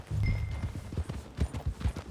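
Horse hooves clip-clopping in Red Dead Redemption 2, a close, steady rhythm of muffled thuds at a walking pace with no talking.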